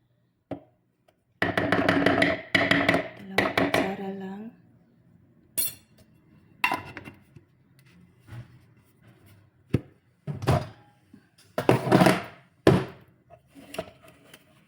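Chocolate topping being mixed in a bowl for a cake: clinking, scraping utensil strokes against the bowl come in loud clustered bursts separated by quieter pauses, with occasional talking.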